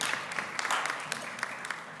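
An audience at a research funding and data governance panel claps to welcome a moderator, a brief spread of light, moderately distant applause with scattered individual claps.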